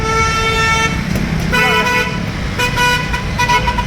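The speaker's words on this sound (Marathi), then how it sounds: "एवढी ट्रॅफिक पण आहे ना" Busy road traffic with several loud car horns tooting close by, overlapping honks repeating over a constant engine roar.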